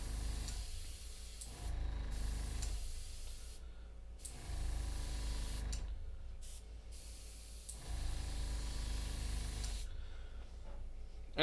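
Airbrush spraying paint in bursts of steady hiss, several sprays a few seconds each separated by short pauses, close and fairly loud with no talking.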